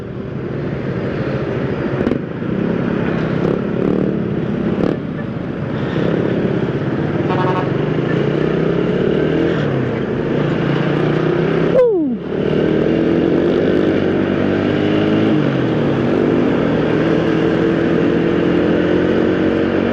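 A Suzuki Raider motorcycle engine drones steadily while being ridden on roads near Tagum City in Mindanao, a continuous loud rumble with wind buffeting, small shifts in pitch as the rider accelerates, and one brief dip midway.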